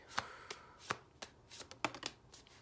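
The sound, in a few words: shuffling tarot cards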